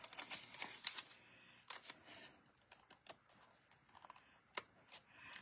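Scissors snip through card in a partial circle while a tri-shutter expandable card is trimmed by hand, a quick series of sharp close clicks and crisp cuts in uneven rhythm.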